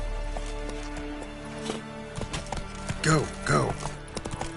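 Hooves of the horse Roach clip-clop at a steady walking pace, with a faint neigh, while voices talk over the hoofbeats.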